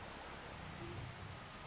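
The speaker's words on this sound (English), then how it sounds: "so yeah, we're still got quite a bit of rain" Rain falls in the video game Farming Simulator 25 as a steady, soft hiss of drops that stays even and fairly faint throughout, with no talking.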